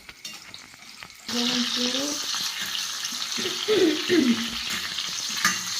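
Eggplant fries in a pan for tortang talong in a small kitchen, a steady loud sizzle that starts abruptly and continues under brief speech and some stirring or clinking.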